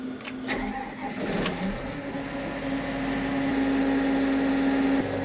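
A John Deere 9RX 640 twin-turbo tractor engine cranks with a few sharp clicks, then catches and settles into a steady, rising idle hum that swells over several seconds.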